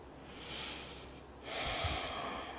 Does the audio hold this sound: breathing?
yes